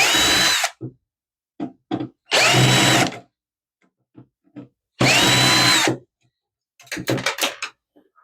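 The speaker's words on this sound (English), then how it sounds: "I want to take some screws out." Power drill spinning screws out of a Gateway computer power supply during a teardown, in three loud sustained whirring bursts separated by pauses filled with short clicks and handling taps.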